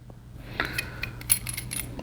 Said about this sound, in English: let's start by taking the airbrush apart